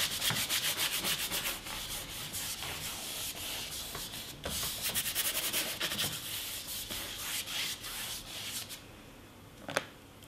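Brush scrubbing oil paint into the weave of a canvas, a steady close rasping rub with rhythmic back-and-forth strokes, fading toward the end.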